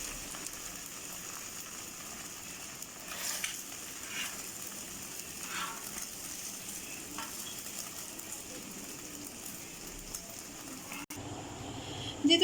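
An egg fries on a pan for a street-style bun kabab, with a soft, steady sizzle and faint spattering crackles at low volume, interrupted by a brief clatter near the end.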